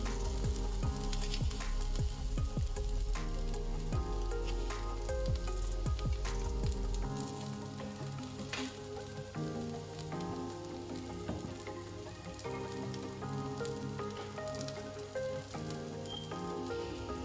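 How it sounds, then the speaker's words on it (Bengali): Ground spices with a little water frying alongside potatoes in a pan for a vegetarian shahi paneer, giving a loud, dense sizzle close by, with stirring clinks early on before the frying settles into a softer, steady hiss. "একটু জল দিয়ে মশলাগুলো একটু ভেজে নেব আলুর সাথে যাতে পুড়ে না যায়"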